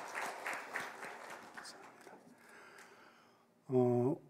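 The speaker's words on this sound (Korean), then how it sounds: "우리의 목자 되신 주님께 영광의 박수를 돌리겠습니다" A church congregation claps in praise during a Sunday service, a moderate wash of applause that fades out over a few seconds, followed by a short, louder sung or spoken tone at the end.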